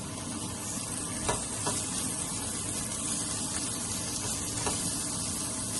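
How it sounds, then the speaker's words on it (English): Minced pork sautéing in a pan for fried rice, giving a steady close sizzle with a few brief stirring scrapes and no talk. "We're going to saute it at least 2 minutes or until the minced pork is cooked."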